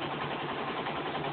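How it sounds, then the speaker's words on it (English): An engine fitted with a spark plug enhancer and a smaller dry cell idles with a steady, dense rumble that stays even throughout the short stretch. "there is a significant difference in the RPM and the idling sound of the engine"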